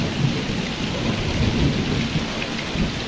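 Torrential downpour in Dhoraji pounds steadily and loudly throughout, a dense roar of rain with deep rumbling thunder mixed underneath and no voices.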